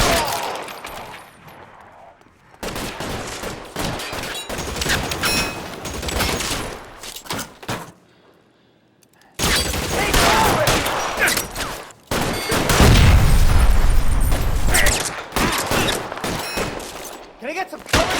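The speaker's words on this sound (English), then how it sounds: "When we get there, we are automatically thrown into a shootout" Bursts of gunfire fill a shootout in the video game LA Noire, with dense volleys of shots broken by short quiet gaps and a louder, heavier stretch near the end, and voices shouting over them at times.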